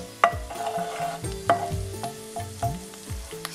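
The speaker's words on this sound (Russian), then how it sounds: "Обжариваю чеснок, острый перец," Garlic and hot pepper frying in a pan for Indian samosa filling, a steady close sizzle broken by several sharp spatula knocks and scraping stirs.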